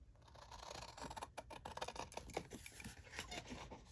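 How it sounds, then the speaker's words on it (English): Scissors snip steadily through paper for a journal, a run of close, crisp cuts in a quiet room with no talk. "I am just going to cut straight there"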